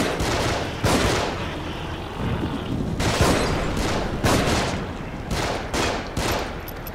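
Repeated gunshots in the horror game The Evil Within, loud sharp blasts arriving every second or so with a rough, noisy bed of combat sound between them.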